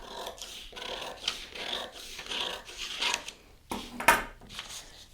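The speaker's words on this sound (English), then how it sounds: "Now cut." Scissors cut through a paper sewing pattern during an advanced pattern adjustment, giving a run of close, quiet snipping and rustling strokes with a sharper crinkle of paper near the end.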